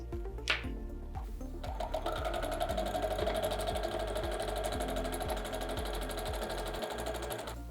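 A sewing machine stitches a seam on a felt activity cube, a steady fast mechanical rattle running close and continuous after a brief start, with no voices.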